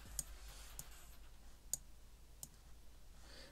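Computer mouse clicking, a few sparse, faint, sharp clicks spaced irregularly over a quiet background with no talk.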